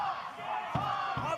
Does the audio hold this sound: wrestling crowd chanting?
yes